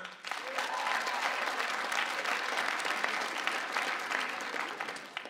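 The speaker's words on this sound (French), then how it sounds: "Par applaudissement." Applause from a comedy show audience, a full burst of clapping that swells quickly and holds steady, then thins slightly toward the end.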